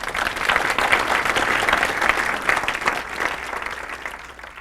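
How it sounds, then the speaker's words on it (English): An audience gives itself a round of applause, a dense burst of clapping from many hands that holds steady and then begins to fade toward the end. "Give yourselves a round of applause."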